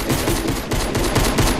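Fortnite gunfire in a rapid automatic burst, loud and close, firing steadily through the short stretch with a brief break midway and no voices.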